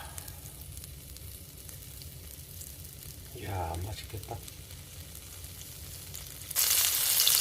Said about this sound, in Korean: 지글지글지글 맛있는 소리가 납니다